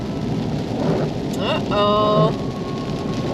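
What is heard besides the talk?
rain and thunder on a vehicle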